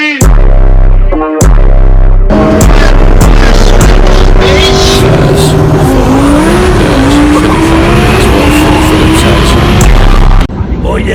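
A turbocharged Jeep engine revs hard and loud, its pitch climbing and wavering through sustained high revs with a raspy, roaring tone, after a couple of short blips at the start.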